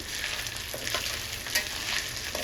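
Small pieces frying in a little oil, a steady close sizzle with scattered sharp pops and crackles throughout, no voices.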